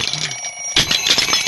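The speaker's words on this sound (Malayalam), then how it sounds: "ആശാനെ, മണി 10 ആയി, അലാറം അടിച്ച എഴുന്നേക്ക്." An alarm clock rings in a Malayalam action film scene: a bright, metallic jangle that fades for a moment, then bursts back louder and keeps ringing steadily.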